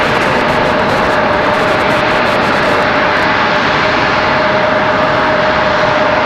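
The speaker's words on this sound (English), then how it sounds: "it looks like Frontier sitting out at the end of the runway" Jet engines of a Frontier airliner hum steadily while it waits at the end of the runway at Raleigh-Durham airport, a loud, constant broadband roar with a thin whine running through it and no talk.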